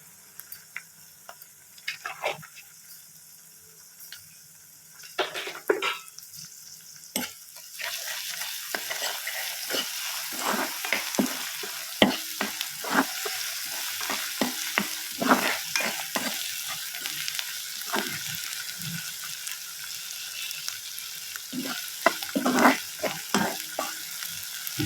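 Onions with ginger garlic paste sizzle and fry in a pan, starting quiet with a few scrapes before a steady close hiss takes over, broken by repeated stirring clatters of the spoon.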